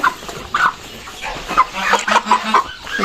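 Several young broiler hens cluck nearby in short, irregular bursts, a close and lively farmyard chatter.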